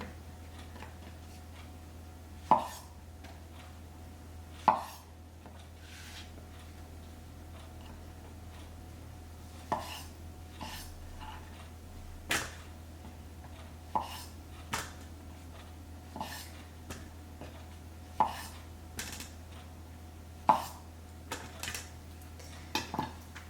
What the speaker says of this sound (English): we don't want to actually slice the mushroom, we just want to quarter it